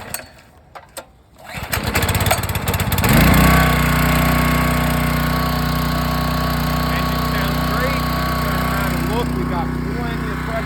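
Gas engine on a power washer being pull-started: a few rough rope pulls and sputters, then it catches and roars into a loud, steady run right up close.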